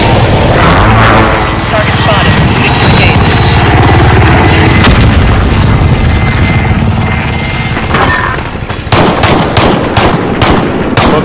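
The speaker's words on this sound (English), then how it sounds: "Be advised, friendly precision airstrike inbound." Dense, loud rumbling blasts and rapid gunfire from a precision airstrike in a video game, continuous and heavy for several seconds before thinning into sharper separate cracks, with talk over the din.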